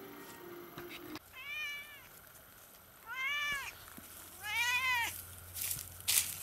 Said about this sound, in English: even the cat is complaining about this